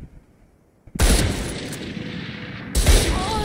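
Gunfire bursts in the video game Valorant, two loud sharp volleys with ringing tails, played close and alone.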